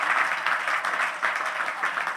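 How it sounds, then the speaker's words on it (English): A crowd at a Martin Luther King Jr. Day public policy forum breaks into brief, continuous applause, a dense wash of clapping heard from within the hall. "Let's give him a round of applause for all that he is doing."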